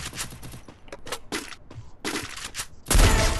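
Rapid bursts of automatic gunfire in a mobile shooting game, several close, punchy volleys separated by brief gaps and ending in a heavier, louder barrage.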